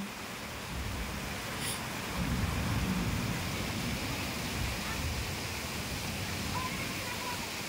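Heavy rain falls in a Philippine province as a continuous, dense hiss of water, steady and enveloping from start to finish with no voices.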